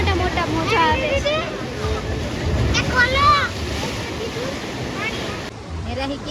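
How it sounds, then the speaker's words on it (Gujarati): Big sea waves roll onto the shore in a continuous surging roar mixed with wind buffeting, while people chat excitedly over it throughout. "જો કેટલા મોટા મોટા મોજા આવે છે"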